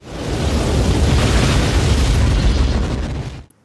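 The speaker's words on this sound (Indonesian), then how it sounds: "terjadilah sebuah ledakan di bangunan itu" A building explodes in an action film, a loud sustained roar of blast and debris that fills the frame for over three seconds before cutting off abruptly.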